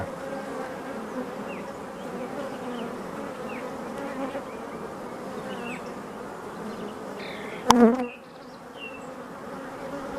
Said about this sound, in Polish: ważne, że matka pszczela zniesła swoje pierwsze jajka